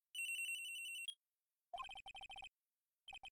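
Electronic cell phone ringtone from the Ace Attorney video game, a steady pulsing trill for about a second, then after a pause several rapid chirping bursts and a final short burst, clean with no speech.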